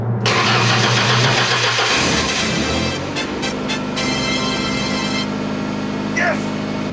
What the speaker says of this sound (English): I'm just going to crank the key here and see if it kicks over